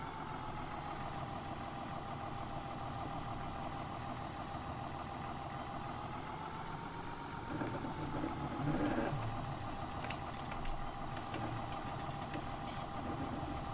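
A tractor towing a trailer in Farming Simulator 19 drones with a steady engine hum and tonal whine throughout, swelling slightly with a few bumps and rattles midway; no voices.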